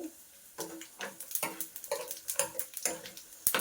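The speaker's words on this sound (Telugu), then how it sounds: "పట్టుపట్లాడుతుంది తాలింపు అయితే" Tempering spices crackling and spitting in hot oil with fried garlic, a run of sharp, irregular pops and snaps heard up close against a quiet background, with one louder crack near the end.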